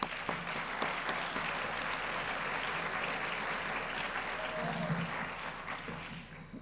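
Audience applause at a university update talk, a steady wash of many hands clapping that stays even and fairly distant for the whole stretch.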